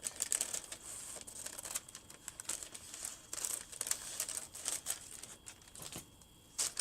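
Scissors cut through folded parchment paper close by, a quiet continuous crinkling and snipping with small crisp bursts throughout and no voices.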